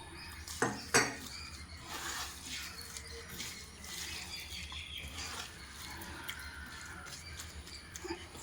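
A spoon stirs an anchovy and grated coconut mixture with tamarind and a drop of coconut oil in a pan over low heat. Two sharp metallic clinks come early, followed by softer scraping and occasional taps against the pan.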